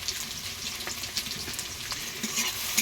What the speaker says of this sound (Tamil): நல்லா கிளறி விடுறாங்க பாருங்கள்.